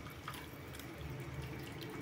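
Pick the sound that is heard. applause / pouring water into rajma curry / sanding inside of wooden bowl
pouring water into rajma curry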